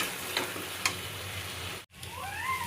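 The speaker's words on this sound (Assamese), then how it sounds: "এতিয়া কমেও মই 5-6 মিনিটমান এনেকৈ ধুনীয়াকৈ ভাজি ল'ম, যাতে পটলটো ভালকৈ ভাজা খায়" Pointed gourd frying in a pan with oil, a steady close sizzle with a couple of sharp stirring scrapes, broken by a brief cutout before the hiss resumes.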